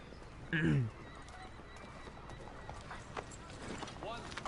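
Horse from Assassin's Creed 3 Remastered: a short, clear whinny near the start, then soft clip-clopping hooves and faint game ambience underneath a voice talking.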